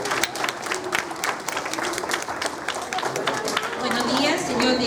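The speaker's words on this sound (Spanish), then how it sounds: "vamos a recibir con fuertes aplausos a la profesora Laura" Sustained applause from a school assembly audience greeting a teacher at a morning formation, dense clapping filling the space with crowd noise and a few shouts, steady and loud throughout.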